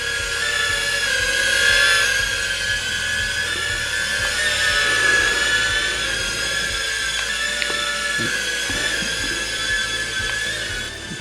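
A Holy Stone HS450 mini drone hovers nearby, its small propellers giving a steady, high whining buzz with layered tones. The whine stays constant and fairly loud throughout, with no voices.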